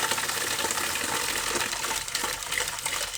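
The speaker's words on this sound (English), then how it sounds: "if we open the tap, we have running water and the pump starts pumping" Water runs hard from an open tap in a DIY overlanding van water system fed by a Shurflo Trail King 7 pump, a loud continuous gush with the pump's churn mixed underneath, close and steady.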